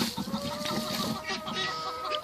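Hens cluck softly in a shed where ducks are also kept, several birds making low continuous clucking and a faint drawn-out call over a rustling background.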